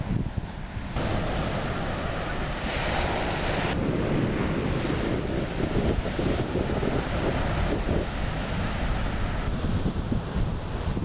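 At Sconset Beach, ahead of a hurricane, heavy surf roars without a break under strong, buffeting wind that pounds the microphone for the whole stretch.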